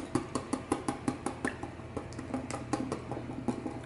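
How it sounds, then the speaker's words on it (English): A utensil clinks and scrapes against a pan while stir-fried shrimp in yellow curry is mixed, giving close, bright metallic taps in a quick, fairly regular rhythm that slows and grows softer toward the end. "We're gonna mix."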